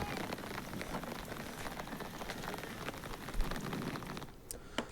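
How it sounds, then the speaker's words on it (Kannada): Steady rain with hail pelts a surface with scattered sharper ticks and taps of hailstones, moderately loud and constant. "ಅದು ಆಲಿಕಲ್ಲು ಸಹಿತ ಮಳೆ ಆಗಿರೋದು"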